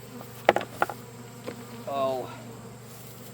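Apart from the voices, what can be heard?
bees buzzing after a strap dropped onto the hive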